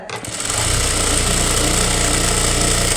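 A sewing machine stitches a child's crop top, its motor whirring in one loud, steady run after a brief start, with a low mechanical hum underneath.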